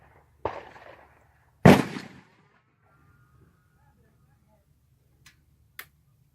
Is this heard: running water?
no